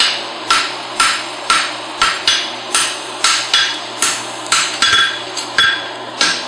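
Steel being forged into a horseshoe at a blacksmithing event, struck with a hammer in a steady series of about sixteen sharp, ringing blows, close and loud, with no talking.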